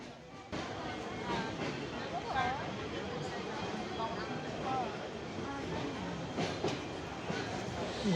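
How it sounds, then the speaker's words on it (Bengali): The Dhumketu Express pulls out of Ullapara railway station, with a steady low rumble of rolling wagons and faint clicking wheels under a voice talking over it. "ধূমকেতু এক্সপ্রেস ট্রেন ছেড়ে যাচ্ছে উল্লাপাড়া রেল স্টেশন"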